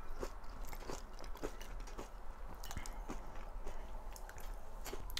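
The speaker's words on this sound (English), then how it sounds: "You hear that? You hear that crunch?" Crunchy fried breakfast potatoes being bitten and chewed close up, a steady run of crisp crunches and wet chewing over about five seconds, with no talk.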